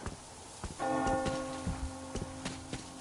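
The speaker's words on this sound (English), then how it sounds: "Do you hear that bell?" A church bell tolls in a video game, sounding a few clear resonant strikes with a long ringing decay, alone and fairly close.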